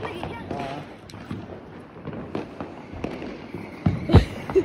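A single sharp firecracker bang cracks out near the end during Diwali, loud and close, after stretches of people talking and moving about.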